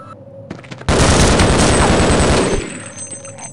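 A sudden, loud burst of rapid gunfire with a grenade explosion in the video game Half-Life roars for about a second and a half, then cuts back to quiet background noise.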